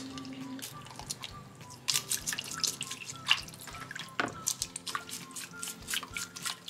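Tap water runs and drips into a sink while rockfish are washed with salt, with steady splashing broken by sharper drips and clatters, close and fairly loud throughout.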